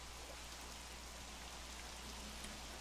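Rain falls in the Minecraft video game as a steady, even hiss that stays constant throughout, faint and with no talking.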